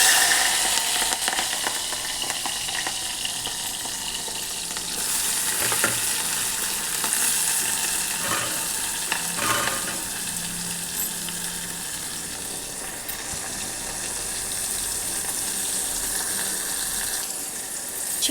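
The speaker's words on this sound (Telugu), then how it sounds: "ఇవి నేను ఇప్పుడు మా పాప కోసం చిక్కుడుగాయ ఫ్రై చేస్తున్నా" Broad beans (chikkudukaya) frying with tomato in a home kitchen pan, a steady close sizzle with occasional stirring scrapes running throughout, no voices.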